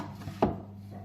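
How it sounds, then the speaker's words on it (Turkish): A single knife cut through a tomato for a broad bean stew, one brief, close chop on a cutting board in a quiet kitchen. "Domatesimi de doğrayacağım."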